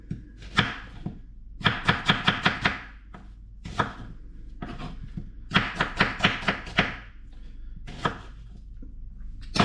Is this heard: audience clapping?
no